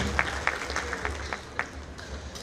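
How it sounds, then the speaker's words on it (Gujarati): An audience at a government ceremony gives a short burst of applause, with scattered claps rising over a hall's background murmur. "આપણે એને તાળીઓથી વધાવીશું."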